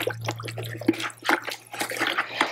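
A bucket of 2:1 sugar syrup for honey bees being stirred with a non-metal stirrer, giving soft repeated sloshing and liquid swirls in a close, uneven rhythm.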